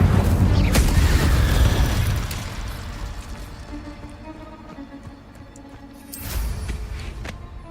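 Booming, crackling bursts from an Incendio fire spell cast in Hogwarts Legacy: a heavy blast opens the stretch, fades into a quieter rumble, then a second burst flares up near the end.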